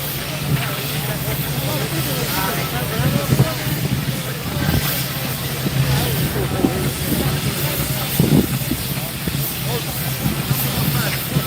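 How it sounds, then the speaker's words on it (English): A 1917 Aveling and Porter 8-ton steam engine moves in a steam rally parade, giving a steady hiss and rumble with irregular chuffs and knocks while a commentator talks over a loudspeaker. "It's an Evening and Porter, 1917. She is an 8-ton engine"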